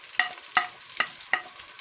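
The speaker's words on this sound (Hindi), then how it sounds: "अब इसमें हम सूखा धनिया शामिल करेंगे" Dried coriander being stirred into an egg and potato curry frying in a pan: four evenly spaced scraping strokes of a spoon over a steady, quiet sizzle, with no talking.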